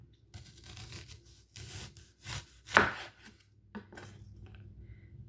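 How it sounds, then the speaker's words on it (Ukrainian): A knife slices carp into rounds on a cutting board, giving several soft chopping knocks at an irregular pace, with one louder, sharper cut near the middle, all close and moderately quiet. "І так я нарізаю з такими красивими кружечками."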